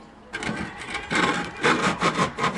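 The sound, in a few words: scraper scraping a wall patch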